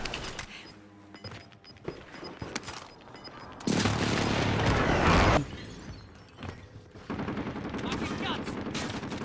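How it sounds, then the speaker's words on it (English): Precision airstrike explosions in Call of Duty Warzone: a dense rumbling burst of blasts and crackling debris lasting a couple of seconds amid scattered gunfire, with faint voices. "Enemy precision airstrike."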